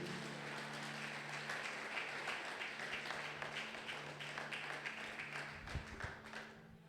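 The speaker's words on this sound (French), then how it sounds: "Est-ce que tu peux acclamer très fort pour la gloire de Jésus?" Church congregation at a Sunday praise and thanksgiving service applauding and cheering, a steady dense wash of clapping that holds throughout, moderately loud, with a low hum beneath.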